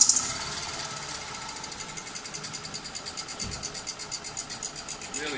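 A BMW engine with an MSD80 DME runs rough on a faulty cylinder, a rhythmic uneven chugging and knocking pulse with a lumpy idle that persists steadily throughout at moderate volume.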